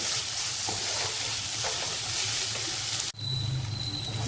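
Onion-garlic masala and red chili powder sautéing in hot oil in a pan, giving a steady, loud, close sizzle with light stirring scrapes. A brief break near the end is followed by a lower, rougher hiss.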